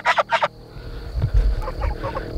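Two quick, loud gobbling calls from homestead turkeys up front, followed by lower muffled rustling and faint bird calls in the background.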